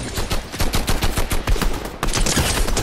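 Rapid automatic gunfire in a shooter video game, close and loud, a fast regular rattle of shots that pauses briefly, then continues as a denser burst.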